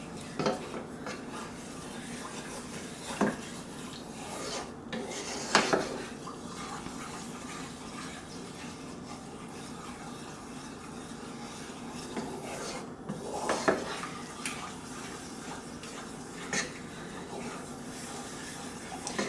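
A spoon scrapes and stirs thickening white sauce of milk in a pan, steady rasping strokes with a few brighter clinks against the metal, close and fairly quiet with no voices.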